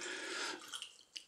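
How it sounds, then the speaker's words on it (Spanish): Water poured into a saucepan for a dulce de leche liqueur, a brief close splashing pour that tapers off into a few small drips. "El mismo contenido, pues dos partes de agua, muy facilito, lo echáis en un cazo."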